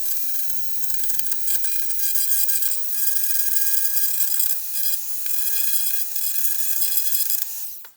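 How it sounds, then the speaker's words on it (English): A Dremel rotary tool grinds an action figure flat, a steady high-pitched whine with abrasive rasping that runs nearly unbroken for several seconds, then cuts off at the end with no talking. "using that same Dremel bit as from before, we're gonna try to just slowly flatten that down"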